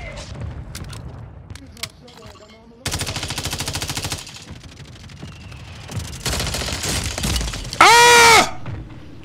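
Gunfire in Call of Duty Rebirth Island, with rapid machine-gun bursts, single shots and shattering impacts in quick succession, loud and close, while players talk over the game.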